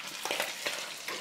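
Food crackles and spits in an overheated, seldom-used pan, a steady sizzle broken by sharp pops, close by, with no talking.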